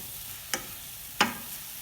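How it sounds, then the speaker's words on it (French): Two separate clacking scrapes of a spoon stirring spiced carrot velouté in a pan, each sharp and close, with a quiet background between them. "Voilà, on ajoute un peu d'épices. Et on mélange encore."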